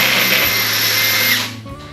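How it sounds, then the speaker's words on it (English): A power drill bores a hole through a kayak crate lid, a loud, close, steady high whine lasting about a second and a half before winding down and stopping. "So if I drill a hole right here in our lid"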